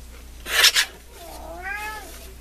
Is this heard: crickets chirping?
no